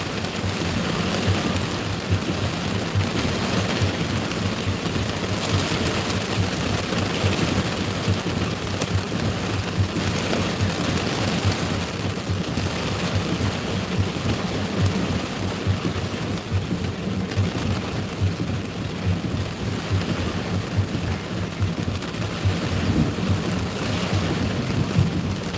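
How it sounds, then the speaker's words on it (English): A thunderstorm in Kentucky drops hail and rain, making a dense, steady roar of falling water that holds at an even loudness for the whole stretch, with no voices. "we've actually got some hail coming down now with these new thunderstorms that are developing"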